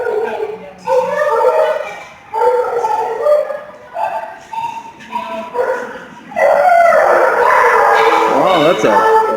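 A dog barks, yips and howls in a series of close, loud outbursts with short pauses between them, rising into a sustained howling stretch near the end.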